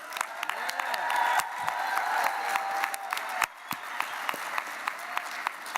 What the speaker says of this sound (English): So we want to say a round of applause for all of our deserving Rammy finalists.